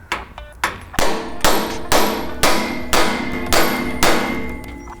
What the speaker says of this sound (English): You can try tapping on the ball joint itself or on the knuckle.